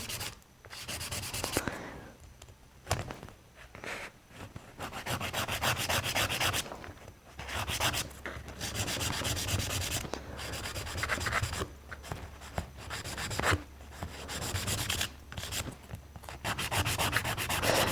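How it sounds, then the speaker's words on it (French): Gel nail being shaped with a nail file, giving loud, steady rasping strokes in repeated bursts of several seconds separated by brief pauses, close up with no talking. "je vais venir limer mon ongle, mais cette fois-ci pour le mettre en forme"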